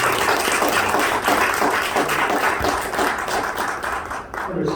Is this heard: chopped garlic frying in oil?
no